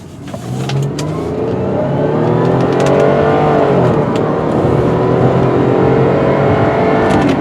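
A black 2002 Acura CL 3.2 coupe with an automatic transmission accelerates hard on a road test drive, its engine revving loudly and rising in pitch through the gears with steady close-up drive noise and no talking.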